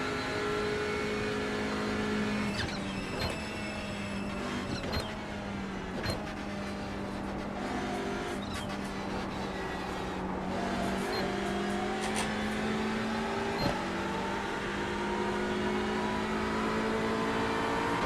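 LMP3 race cars at Daytona during the Roar Before the 24, a sustained high-pitched engine whine at racing speed, steady and continuous, with occasional sharp mechanical clicks and shifts over the drone.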